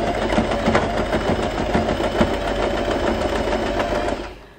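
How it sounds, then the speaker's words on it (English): Domestic sewing machine stitching the centerpiece of a fabric butterfly hair bow, a steady fast whirring chatter of the needle running for about four seconds before stopping, close and alone. "To sew the centerpiece, I always move my needle to the left so it gets really close to the hair bow."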